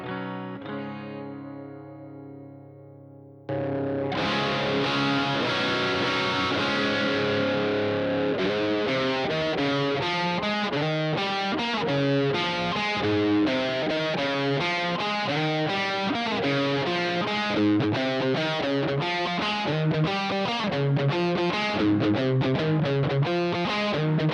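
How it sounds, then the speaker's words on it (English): Electric guitar played through a distortion pedal, a few clean-ish notes at first, then a loud, continuous gritty saturated riff with fast rhythmic picking, close and alone. "These pedals give a saturation and a grit to your sound"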